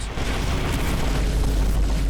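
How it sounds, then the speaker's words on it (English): Vine boom effects standing in for explosions in a modded Factorio game, a thick, deep booming wash that stays loud and continuous for a couple of seconds. "the replacement of explosion sounds with vine booms"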